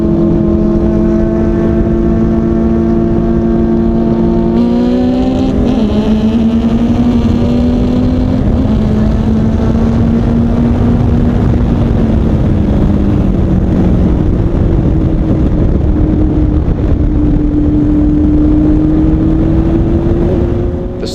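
A Ginetta G4 race car with a Ford engine accelerating hard on track, its loud, continuous engine note rising through the gears with steady revving harmonics, close and alone without talk.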